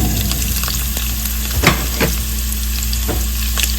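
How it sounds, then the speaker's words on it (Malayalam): Chopped ginger frying in a pan of hot oil for a bitter gourd and carrot pickle, a steady close sizzle with a few scraping stirs of a spoon, no talking. "ഇഞ്ചി ഒന്ന് നന്നായിട്ട് മൂത്ത് വരണം"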